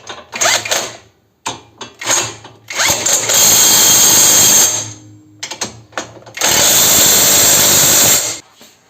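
An impact or power tool tightens the brake caliper bolts on a 2018 Peugeot 5008, heard as several short whirring bursts followed by two long, loud sustained runs, close by with no talking.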